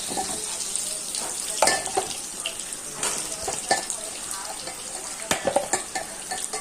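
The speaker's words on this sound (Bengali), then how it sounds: "এগুলো একটু ভেজে নিই, আলু আর পেঁপে।" Potato and papaya pieces frying in oil, a moderate hiss with scattered clinks and scrapes of a utensil, close by.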